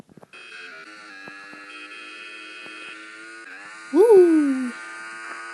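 A motorcycle engine in the mobile racing game Traffic Rider hums as a steady buzzing drone, then surges into a sharp, louder rev near the end before settling back to the hum.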